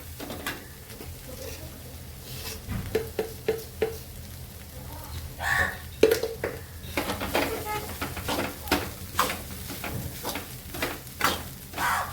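Poha being mixed in a pan for Maharashtrian kande pohe, with repeated scraping and clinking of a spoon against the pan and a faint sizzle beneath, while someone speaks.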